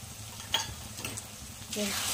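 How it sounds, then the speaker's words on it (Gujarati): Soft sizzling of red chilli powder and garam masala frying in a pan for pav bhaji, with a brief stir and scrape near the start and a louder hiss at the end. "તો આપણે 2 મિનિટ માટે મસાલાને સાતરી લીધો છે"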